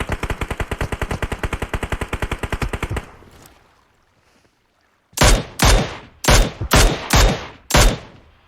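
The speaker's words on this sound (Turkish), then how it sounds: "Bak bak bak buradan sıkıyor." Gunfire in the PUBG Mobile battle game: a loud, rapid automatic burst for about three seconds, a pause, then six heavy, evenly spaced single shots, all close and without talk.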